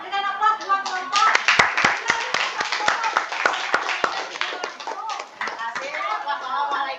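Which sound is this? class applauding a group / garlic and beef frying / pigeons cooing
class applauding a group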